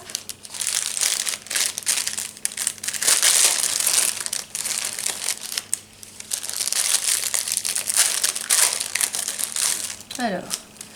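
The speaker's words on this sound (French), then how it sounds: "Corinne m'a aussi mis des paquets de fleurs, donc je vais les ouvrir pour que vous puissiez voir" Plastic packets of paper flowers are unwrapped and handled close by, loud continuous crinkling and crushing of packaging for several seconds, easing briefly midway before resuming, with a faint voice near the end.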